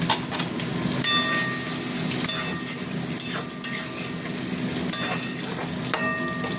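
Spice masala sweetened with a little sugar fries in oil in a pan for a bottle gourd curry, a loud continuous sizzle broken by the scrape and clink of a spoon stirring through it, close and without talk.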